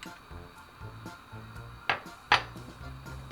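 Minced garlic stir-fries in a lightly oiled pan with a soft, continuous sizzle, and two sharp utensil clanks against the pan stand out near the end.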